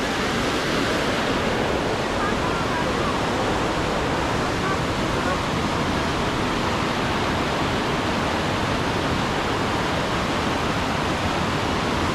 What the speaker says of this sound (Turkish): Ama bir dere, şelale falan değil bu bence yani.